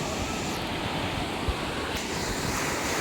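Ocean waves at a Konkan beach: a continuous rush of surf mixed with wind buffeting the microphone, steady and fairly loud.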